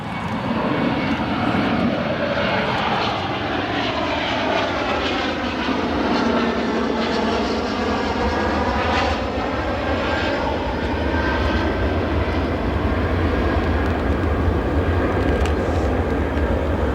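United Airlines airliner at O'Hare airport, a loud continuous jet engine roar with a steady rumble and a slowly shifting whine as it passes nearby.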